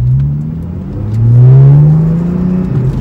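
A Porsche 911 fitted with an IDP plenum revs in Sport Plus mode, its engine note rising in a loud, close swell that peaks mid-way and then eases back, with no talking over it.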